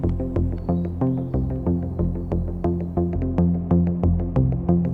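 A modular synthesizer sequence of short plucked notes in a steady rhythm, bathed in echoing delay and reverb tails, played alone with no voices.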